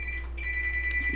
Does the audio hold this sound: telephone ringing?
yes